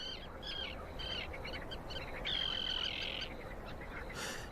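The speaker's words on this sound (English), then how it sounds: "the sound of prayer is broken by the calls of thousands of birds" Many migratory birds call at Skadar Lake in Montenegro's national park, their chirps, whistles and a long shrill note rising over steady wetland ambience in a dense, continuous chorus at middle distance.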